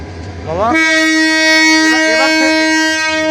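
A local train at Kholahati railway station on the Rangpur–Parbatipur line sounds a loud, sustained horn blast as it pulls away, rising in pitch before holding steady, with faint voices beneath.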